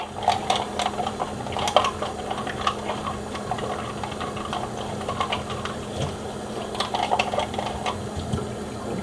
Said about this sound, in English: So now I'm going to wash the spoon.